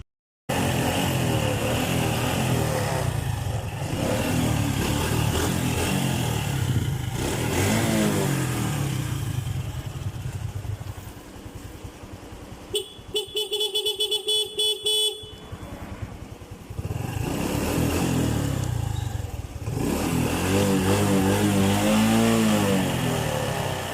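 A Honda Wave 110 motorcycle with full-wave wiring revs repeatedly, its engine rising and falling in loud, close bursts, broken by a short rattling, clicking stretch midway.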